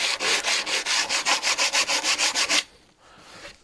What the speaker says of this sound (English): just gonna sand off the paint